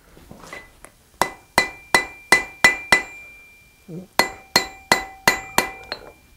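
A blacksmith's hammer squares up hot metal on the flat of an anvil: a run of about six sharp, ringing strikes, a short pause, then roughly six more, close and loud.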